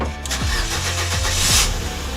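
A Ford Fiesta, repaired after a crash, cranks over and catches, its engine settling into a loud, close idle with a few brief rises in revs.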